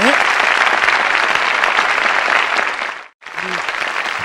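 An audience at a 7080-era Korean pop concert for a fan cafe anniversary claps loudly and steadily for a few seconds, then the applause drops off abruptly before a brief resumption.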